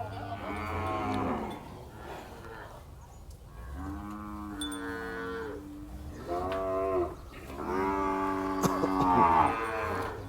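Cattle moo at a livestock market in Wang Prachop, Tak, Thailand, several drawn-out bellows overlapping one another, fairly close, with a low murmur of the market behind.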